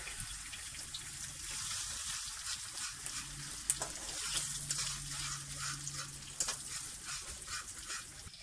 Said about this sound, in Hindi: इसमें डाल दूंगी मैं 1 अंडा। इसको हम फ्राई करेंगे।